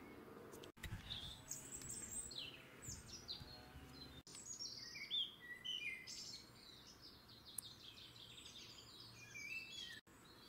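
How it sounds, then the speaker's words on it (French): Birds chirp and tweet in quick, bright bursts near a hilltop street in Évreux, Eure, a busy overlapping chorus over faint outdoor background with a few brief dropouts. "je remercie mon public d'oiseaux pour assurer le bruitage"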